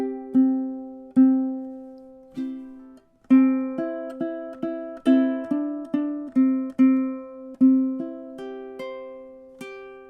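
Ukulele picking the melody, clear plucked single notes and small chords in a slow, steady rhythm, each note ringing and decaying, played alone and close with no voices.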